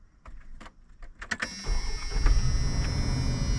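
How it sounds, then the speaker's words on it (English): A van's car engine is started while the key is gently wiggled: a few sharp key clicks and rattles come first, then the engine cranks and catches into a steady, rumbling idle close by. "start the car while you're parking and then gently wiggle the key and see if the engine turns off"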